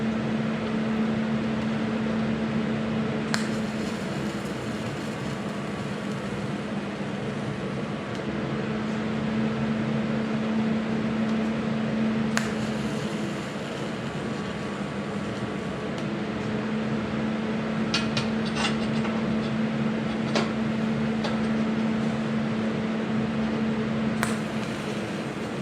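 A TIG welder arc running at 100 amps melts straight through the metal workpiece, giving a steady, unbroken buzzing hiss with a low hum that holds at an even level for the whole stretch, with no voices.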